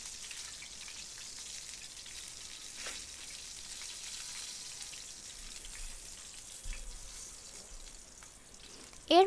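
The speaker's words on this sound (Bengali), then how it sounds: "একে একে সবগুলো চিকেন আমি এভাবে ভেজে নিব" Chicken pieces fry in hot oil for a golden-brown spicy roast, a steady soft crackle and patter of bubbling fat running evenly throughout, with a brief louder clatter right at the end.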